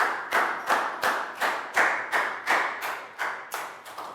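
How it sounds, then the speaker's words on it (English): A classroom of young children claps in a steady, even rhythm: about a dozen crisp, evenly spaced claps, each one fading before the next, with no voices. "Big round of applause for Down."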